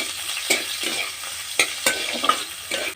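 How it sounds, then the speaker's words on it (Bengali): Sliced onions frying and being stirred in hot oil with chillies in a pan, a steady close sizzle broken by several sharp scraping stir strokes at irregular intervals, with no talking. "পেঁয়াজটা আমি ভেজে নেবো"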